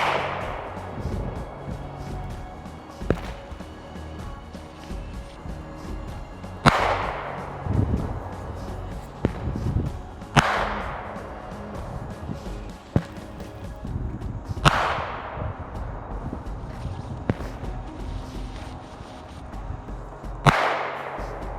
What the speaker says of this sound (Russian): Перейдем к практическим тестам и посмотрим, как новые выстрелы стреляют.